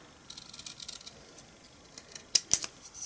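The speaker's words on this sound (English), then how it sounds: "I'm going to cut this out freehand" Scissors snipping freehand through a small paper mat for a handmade greeting card, a series of crisp close cuts that grow sharper toward the end, quiet and heard alone.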